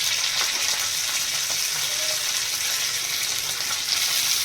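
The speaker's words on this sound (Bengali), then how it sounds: "লোটের শাক ভাজবো" Loter shak greens frying in a pan, a dense, steady sizzling hiss with faint stirring scrapes, close and continuous without speech.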